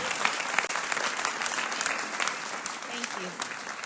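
Sustained applause from an audience at a public presentation, dense and steady for the whole stretch, with voices murmuring and calling out beneath the clapping.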